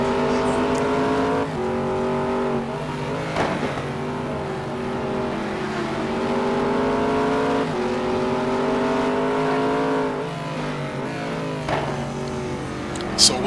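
GT1 race cars including a Nissan GTR GT1 roar around the Jerez circuit in a racing game, a steady multi-toned engine drone rising and falling through gear shifts, with a few sharp transient knocks near the end.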